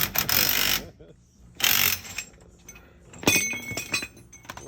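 Wrenching on an engine with a ratchet, close metallic clicks and clinks in short bursts separated by quieter gaps, with a brief ringing tone near the end.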